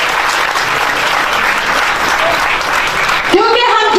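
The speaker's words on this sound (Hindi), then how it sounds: "मैं चाहती हूँ खुदा के कलाम के लिए जोरदार ताली बजाएं" A congregation at a church memorial service claps loudly and continuously, a dense wash of applause filling the room until it cuts off near the end, where a voice begins speaking.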